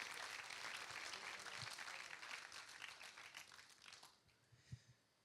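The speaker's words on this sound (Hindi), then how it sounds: "एक बार जरा तालियां बजा दीजिए" An audience at a Hindi comic poetry recital applauds with sustained, dense clapping that thins out and fades near the end.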